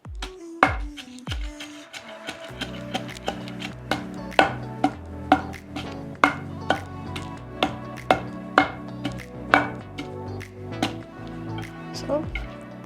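Coconut, ginger, green chillies and coriander pounded in a mortar, a steady run of sharp, close thuds roughly every half second, with a faint voice now and then underneath.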